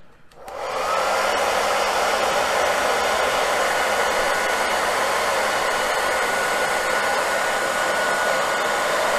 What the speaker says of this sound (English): I've got my hair dryer here, so it's going to be a little bit noisy